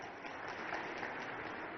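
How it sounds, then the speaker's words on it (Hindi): A crowd claps for Narendra Modi at a political gathering, a steady wash of applause heard faintly from a distance. "जोरदार ताली माननीय नरेंद्र मोदी जी के लिए बजाएं एक बार"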